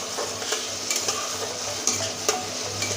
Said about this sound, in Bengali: এবার সুন্দর করে কষতে থাকবো মশলাটা